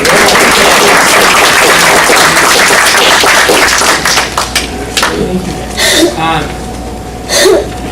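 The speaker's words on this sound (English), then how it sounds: "Let's clap it for Kaylin." Audience clapping at a youth empowerment partnership event, a dense burst of applause filling the first four seconds before thinning into scattered claps and murmurs.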